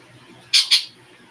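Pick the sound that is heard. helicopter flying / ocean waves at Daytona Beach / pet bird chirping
pet bird chirping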